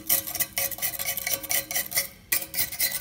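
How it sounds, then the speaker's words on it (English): Rapid, steady metallic scraping as a pocket knife works burnt drippings off a grill side shelf, a close, bright rasping that runs in quick strokes with one short pause, no voices. "I'm just scraping it off here with my pocket knife"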